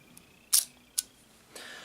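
Leaf shutter of an Agfa Ambi Silette camera fires at 1/30 second, giving crisp close mechanical clicks: a sharp click, another shortly after, then a softer one, in a quiet room.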